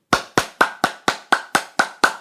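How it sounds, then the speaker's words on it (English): Nine sharp, evenly spaced hand claps by one person, close and clear at a steady moderate pace, each ending in a short room echo. "That's me clapping"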